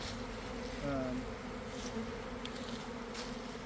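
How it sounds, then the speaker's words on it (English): A steady, dense buzzing of many wild bees flying around their hive hums continuously at moderate volume, with no talking. "So we have a lot of bees flying."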